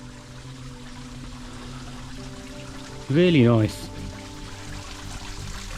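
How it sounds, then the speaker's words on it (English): A steady rush of a garden waterfall in Sintra, Portugal runs throughout, with a person speaking briefly over it partway through. "Waterfall coming down."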